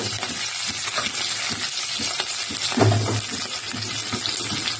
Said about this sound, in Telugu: ఇదో కరివేపాకు కాడంతా వేసేస్తాను